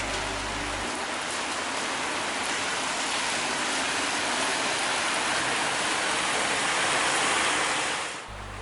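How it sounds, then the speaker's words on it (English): Heavy, steady rain pours down in a dense continuous roar, loud and unbroken, with no voices. "we had to find some shelter from a torrential rainstorm."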